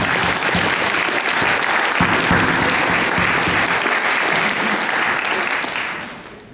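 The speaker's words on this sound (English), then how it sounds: "Please give a good round of applause for that." An audience at a Drexel biomed graduation ceremony claps in a sustained, dense burst of applause, loud and even throughout before tapering off at the very end.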